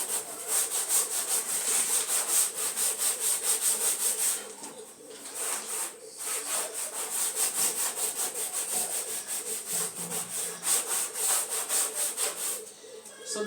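A teacher rubs out writing on a classroom board with steady back-and-forth scrubbing strokes in a quick repeating rhythm, pausing briefly midway before continuing, heard nearby.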